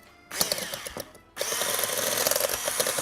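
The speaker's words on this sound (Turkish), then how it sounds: "Şimdi bunu güzelce çırpacağım." An electric hand mixer whisks cake batter in a kitchen, starting with a short burst, pausing briefly, then whirring steadily and loudly up close with a rattling motor hum.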